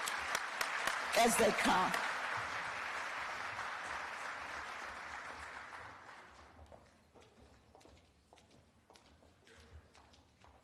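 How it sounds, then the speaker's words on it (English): Audience hand clapping for the Dudley Chorus at a Martin Luther King Jr. memorial breakfast, a full crowd applauding loudly, then tapering into sparse claps and footsteps as a voice speaks briefly. "I would like to reintroduce to you the Dudley Chorus. Let's give them a hand clap"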